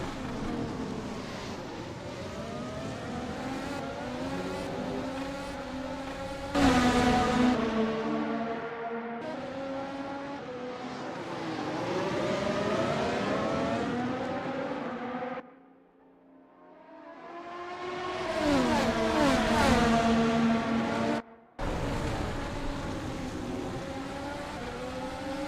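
Race cars at the Bahrain round, engines screaming past one after another with rising and falling pitch as they shift gears, loud passes broken by a brief near-quiet gap before the next cars roar through.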